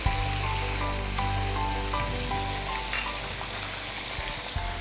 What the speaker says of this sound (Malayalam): ഒരു 5 മിനിറ്റോളം ഇങ്ങനെ ചിക്കൻ്റെ പീസസ് ഇങ്ങനെ വഴറ്റിയെടുക്കാം